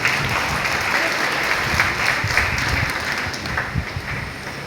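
Sustained applause from an audience at a Tamil honorary title ceremony held by an all-India association of sannyasis, dense steady clapping filling the room throughout without any voices on top.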